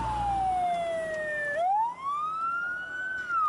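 A fire engine siren wails at a fire scene, with one of two responding fire trucks sweeping its pitch down and then back up in a long, loud continuous tone over faint traffic rumble.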